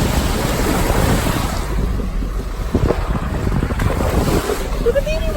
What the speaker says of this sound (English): Fixing to encounter our first water crossing on Witt Road.